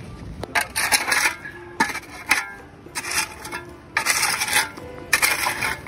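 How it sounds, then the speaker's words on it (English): An old shovel digs among rocks on a shore, each thrust giving a harsh metallic scrape and clatter against stones, repeating in irregular bursts, close and loud, with no talking. "this is really hard digging because of all these rocks"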